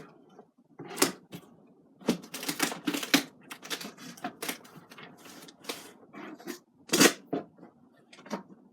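Packing tape pulled and pressed to seal a cardboard box, a series of loud ripping screeches and crackles in irregular bursts, close up, no speech.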